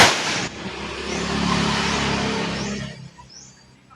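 Firecrackers set off by children explode nearby, a loud burst followed by a dense crackling roar of noise that sustains for a few seconds and then fades away.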